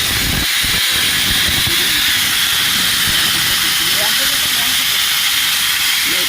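Pressurized gas escapes from the CNG tank of a Maruti Suzuki Eeco in a loud, continuous broadband hiss, steady and close, while someone talks quietly beneath it.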